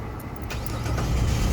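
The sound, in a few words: Jeep Liberty 3.7 L engine being cranked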